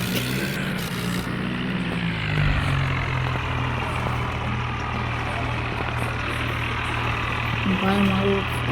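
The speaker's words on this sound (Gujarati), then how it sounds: "ભાઈ મારું ટ્રેક્ટર પણ એક નંબર સ્ટેન્ડ કરી રહ્યું છે." A tractor engine idling steadily nearby, a continuous low throbbing drone with a rough mechanical rumble, one brief louder surge near the start.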